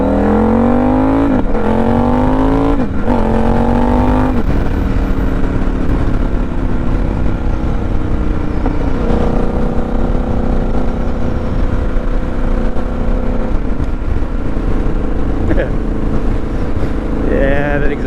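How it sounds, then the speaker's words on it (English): A Triumph Scrambler XE motorcycle on Washington Highway 161 runs with a loud, steady exhaust drone throughout, rising in pitch through a few revs early on, then holding a sustained engine tone. "that exhaust sounds sweet"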